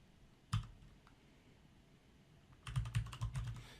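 Computer keyboard typing in a quiet room: one sharp click near the start, then a fast burst of several clustered keystrokes at the end, close and fairly crisp.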